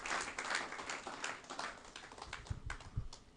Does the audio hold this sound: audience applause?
yes